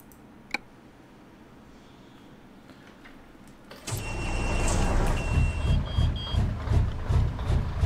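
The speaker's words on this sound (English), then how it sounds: "The one I'm using at the moment is the 1400 loop idle old Jake brake." Euro Truck Simulator 2 truck with a modded 1400 loop idle and old Jake brake sound, quiet ambience with a click until the engine rumbles in loudly, chugging with pulsing throbs.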